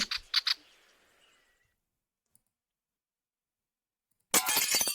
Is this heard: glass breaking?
yes